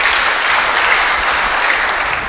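A church congregation claps continuously, a dense and even wash of applause with no pauses throughout.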